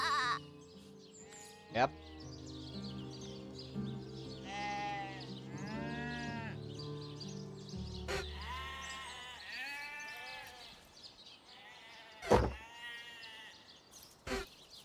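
Sheep in the Divinity: Original Sin video game bleat repeatedly in short wavering calls over layered game ambience, with a voice speaking briefly.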